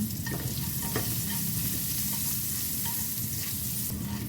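Dried shrimp (ebi) frying in oil in a home-kitchen pan while being stirred: a steady close sizzle with light scraping stir strokes, no talking.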